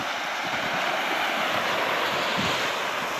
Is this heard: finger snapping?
no